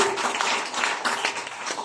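An audience at a stage event applauding for Uma sister: steady, dense clapping from a crowd, fairly close and continuous for a couple of seconds, with no talk over it.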